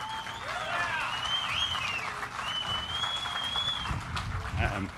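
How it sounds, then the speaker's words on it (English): A crowd at a Bassmaster fishing tournament weigh-in applauds two anglers, steady clapping throughout with whistles riding over it and a voice in the mix. "give them a round of applause"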